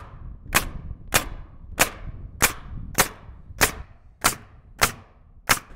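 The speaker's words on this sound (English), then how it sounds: "when you start nailing, you want to make sure your nails aren't going in too deep" A pneumatic nail gun drives nails into wall sheathing with ten sharp, loud cracks at an even pace, roughly one every half second, and each shot trails off in a short decay.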